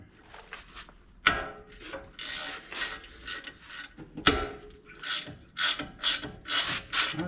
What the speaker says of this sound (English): Have to get my impact on that one